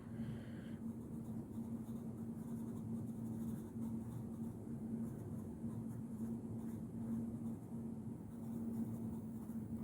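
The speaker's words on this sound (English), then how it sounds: "So I will just write that here." A pen scratches softly on paper while garden planting notes are jotted down in Perth, Western Australia. The writing is faint and continuous over a steady low hum, with no voices.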